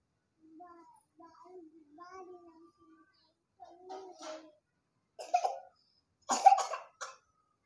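A small child babbles softly, then gives two or three sharp coughs, close to the microphone.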